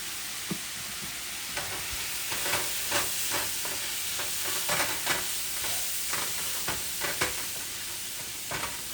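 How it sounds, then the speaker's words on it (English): Onion frying with cumin in a pan for Mexican ranchero eggs, a constant soft sizzle under a string of light scraping and tapping stirs from a spoon, fairly quiet and close. "So we continue stirring our cebolla, our onion."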